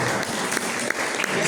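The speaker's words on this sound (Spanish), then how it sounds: "métele la aplauso al Señor" A church congregation applauds, a dense steady clatter of many hands clapping together, loud and close, with a voice talking over it.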